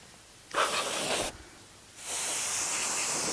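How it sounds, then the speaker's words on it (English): Compressed air duster sprays inside a PC in two loud hissing bursts, the first short, then a pause, then a longer steady blast, close up with no talking. "once you start spraying this, it kind of falls down, so you have to do this multiple times"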